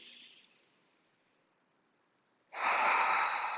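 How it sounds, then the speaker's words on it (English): A person crouched down tightly draws one deep breath after a long near-silent pause, a sudden loud, airy inhalation that continues to the end. "I'm going to invite you to just take a deep breath here"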